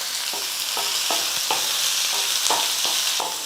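A finely chopped large onion with a pinch of salt fries in a pan, a loud, continuous sizzle broken by regular scraping stir strokes about every half second, with no talking.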